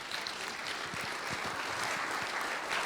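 A crowd claps steadily and fairly loudly, a dense wash of applause throughout with no talking.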